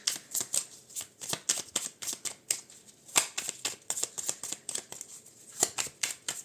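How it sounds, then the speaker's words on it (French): Oracle cards being shuffled by hand give a string of crisp papery riffles and flicks in irregular rhythm, close and clear with no talk. "On va mélanger un peu les cartes."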